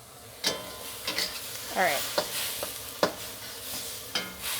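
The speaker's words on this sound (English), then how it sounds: "keep stir frying, keep cooking off that liquid, keep breaking up the chicken." Thai basil chicken stir-fried in a wok over the highest heat, with repeated scraping and clanking strokes and a steady sizzle as the liquid cooks off; a brief spoken remark comes midway.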